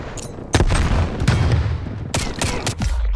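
A frag grenade goes off amid multiplayer gunfire in Call of Duty: Black Ops Cold War. Heavy booms and bursts of shots come in quick succession, loud and close, with no speech over them.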